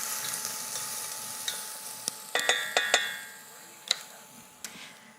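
Garlic and mostly cooked onions fry with a soft, steady sizzle in a pan. A utensil stirs and scrapes them with several distinct taps and clinks.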